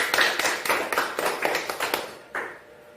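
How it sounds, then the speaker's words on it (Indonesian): A classroom group claps hands together on cue, a burst of quick, fairly close claps with a loose rhythm that runs about two seconds before a final clap and fade. "mari kita tepuk tangan dulu"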